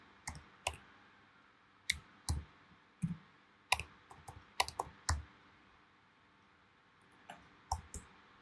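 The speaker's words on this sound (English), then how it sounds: "So let's go ahead and type simple text effect." Typing on a computer keyboard while a text effect is set up in After Effects: scattered, close, crisp key clicks that come in short bursts with pauses between them and no talking.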